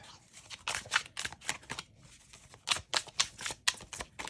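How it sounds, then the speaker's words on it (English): Crisp bursts of tarot cards being shuffled, several quick riffles in a row with short pauses between, close and fairly quiet. "Do 3 more shuffles here if nothing pops."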